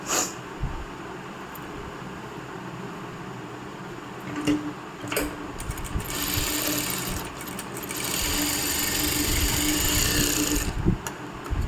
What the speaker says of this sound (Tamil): ஸோ 2 ஸ்டிச்சஸ் போட்டுட்டு பேக் ஸ்டிச் பண்ணிவிட்டு கம்ப்ளீட் பண்ணணும்.